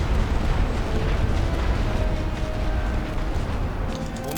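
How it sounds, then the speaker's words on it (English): Artillery shells land in a rumbling, continuous barrage of booming explosions in the World War I strategy game The Great War: Western Front, dense and heavy with no talk over it. "Here is some artillery on our position here."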